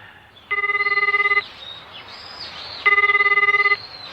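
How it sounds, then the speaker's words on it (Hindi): Telephone ringing in an anime scene, two bursts of electronic trilling rings about a second each with a pause between, fairly loud over a faint background hum. "इतादोरी अंकल, आपके लिए फोन है।"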